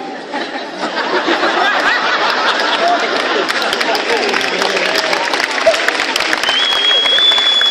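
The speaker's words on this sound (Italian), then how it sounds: "Applauso" A comedy show crowd in Bojano breaks into loud, sustained applause mixed with laughter and chatter, the clapping dense and close, with a whistle rising near the end.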